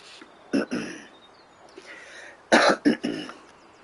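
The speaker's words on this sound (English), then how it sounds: "Excuse me, struggled with a cough all week." A person coughs and clears their throat in close, loud bursts, two clusters a couple of seconds apart with brief quieter breaths between.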